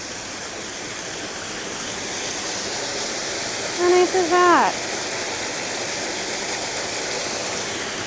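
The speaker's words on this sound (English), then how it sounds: "Oh, it's a little mini waterfall." A small waterfall in Springwater Provincial Park gives a steady, close rushing wash of falling water, with someone briefly speaking over it midway.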